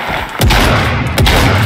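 Gunfire in Fortnite: two loud, sharp shots about three-quarters of a second apart, each with a booming tail, close and alone without talk.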